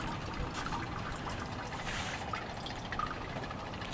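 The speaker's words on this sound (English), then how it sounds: "It still trickles a little bit." Water from a reverse osmosis bucket system keeps trickling after shut-off, a faint, continuous dribble with small scattered drips, close and quiet, with no talk.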